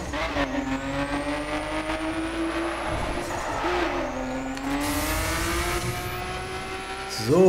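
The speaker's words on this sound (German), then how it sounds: "Jetzt kommen die Autos." Cars racing in The Crew video game, with a steady loud engine drone whose pitch climbs and shifts through gear changes, bursts of tire noise and a sharp rise at the end.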